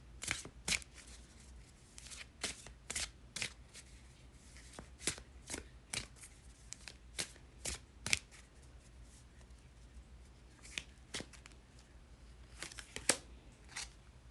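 Tarot cards shuffled and drawn, a run of crisp riffling flicks and snaps in irregular bursts, close and fairly quiet against a low steady hum, with no talking.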